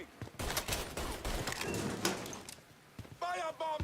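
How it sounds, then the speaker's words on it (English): Rapid gunfire in the Mafia video game, a close string of sharp reports and clattering bursts over a few seconds, with a voice shouting near the end. "Move, boy, I'm firing!"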